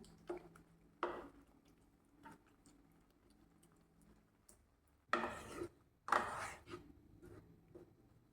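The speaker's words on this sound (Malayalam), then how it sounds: "ഇനി കഷ്ണങ്ങളൊക്കെ ഒരു സ്പൂൺ വെച്ച് ഉടച്ച് ഒന്ന് യോജിപ്പിച്ച് കൊടുക്കാം" A spoon mashes soft cooked pumpkin and mango pieces in a pan, giving a few quiet taps and scrapes, then two louder, longer squishing scrapes close by.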